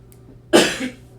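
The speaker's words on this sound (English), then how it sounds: "I still got a cough." A single sharp, close cough bursts out after a quiet pause, followed by a brief throaty tail as it fades.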